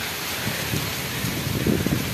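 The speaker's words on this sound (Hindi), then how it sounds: "बारिश आ चुकी है" Rain falling steadily outdoors, a soft continuous broadband patter with slightly heavier bursts toward the end, fairly close and alone without talk.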